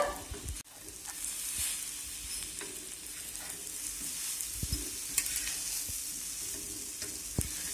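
Egg and bread frying together in an oiled pan for egg kothu bread, stirred with a utensil; a constant close sizzle with intermittent scraping and tapping strokes, no voices.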